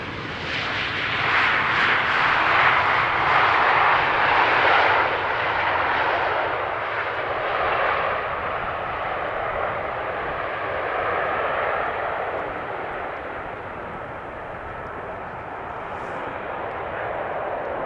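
KLM airliner arriving at Amsterdam Schiphol Airport on runway 18R, a loud, broad jet engine roar passing nearby and slowly fading as it moves away.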